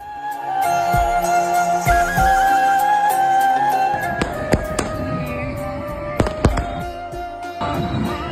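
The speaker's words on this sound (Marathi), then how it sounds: "101 किलो दिवे लावत फटाक्यांची आतिषबाजी देखील करण्यात आली" Scattered firework bangs and crackles burst over a steady musical drone, with a few sharp, loud cracks standing out toward the end.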